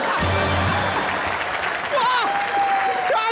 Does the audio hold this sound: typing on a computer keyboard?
no